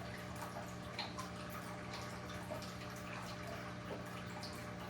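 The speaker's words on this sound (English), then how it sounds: "I'm vacuuming out the tank right now, folks." Steady water pumping and sloshing from a siphon vacuum pulling water and debris off the bottom of a home fish tank, continuous with faint dripping and a low hum, no talking.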